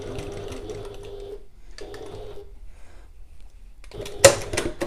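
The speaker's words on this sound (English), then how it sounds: "We're just going to sew one side of the seam 1/8 of an inch or 3mm away from that seam" Sewing machine stitching a seam on a satchel, two short runs of steady mechanical whirring separated by pauses, then a sharp clack and a brief restart.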